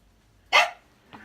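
Gus, an old dog, gives one sharp close bark, then a fainter short second yelp in an otherwise quiet room.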